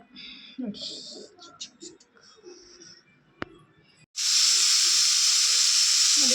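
A pressure cooker on a home kitchen stove suddenly lets out a loud, sustained whistle and hiss of escaping steam, following quieter kitchen clatter and a sharp clink.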